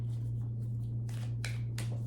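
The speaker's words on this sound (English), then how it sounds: "These cards are like impossible to shuffle like this" A deck of cards is shuffled in a few brief riffling bursts close up, quiet over a steady low electrical hum.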